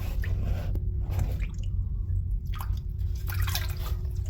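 A sponge presses into and soaks up leftover water inside a toilet tank before a tank-to-bowl replacement, giving soft close-up drips, squishes and wet trickles over a steady low hum.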